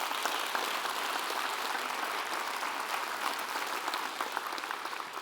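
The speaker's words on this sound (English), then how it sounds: "Give her a round of applause." An audience at a school district State of the Schools event applauds steadily, a dense, even clapping that holds at moderate level with no voices on top.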